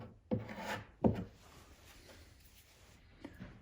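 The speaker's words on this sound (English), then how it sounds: "I'm just going to work it down into the crack, scrape it off." Homemade wood filler being worked into a crack in wood with a scraper, two short rasping strokes close up followed by fainter rubbing, quiet overall.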